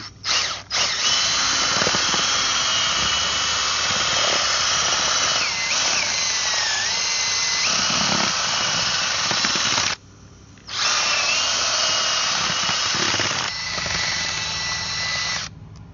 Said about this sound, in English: and then we're using a drill.